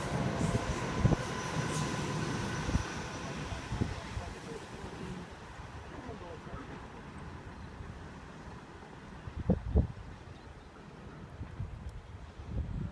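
A Waratah electric passenger train passes a suburban station platform, a steady rumbling roar that fades as it goes by, with a few sharp clanks near the end.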